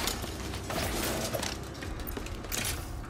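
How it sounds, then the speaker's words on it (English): Bolt crank turning in Ratchet and Clank Rift Apart, a dense metallic ratcheting and clanking with gear-like clicks and creaks, running continuously at moderate level with a few sharper bursts. "Classic bolt crank."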